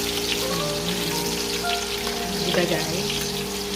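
Onions tossed in a frying pan where garlic was nearly burnt, crackling and sizzling steadily and close, with a brief spoken aside over the sizzle.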